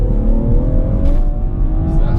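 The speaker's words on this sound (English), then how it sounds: "So we'll put our foot down and let's listen to the engine." A 2017 BMW 440i Gran Coupe engine accelerates on an open road out of town, a loud steady rising drone heard from inside the car, with no talk.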